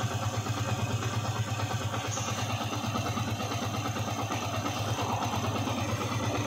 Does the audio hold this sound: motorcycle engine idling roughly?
yes